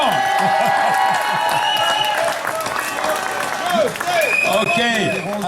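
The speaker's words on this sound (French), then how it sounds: "on s'applaudit tous en même temps." An audience at a rally supporting striking factory workers applauds together, a steady wash of clapping running throughout, with voices and cheers mixed in over it.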